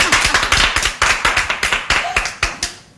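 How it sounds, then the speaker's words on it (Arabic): An audience claps steadily for about three seconds, sharp even hand claps ringing out close and loud with no talking over them. "صفقوا."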